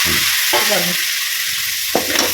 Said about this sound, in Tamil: பாவக்காய் கூட தக்காளி சேர்த்து வதக்கணும்.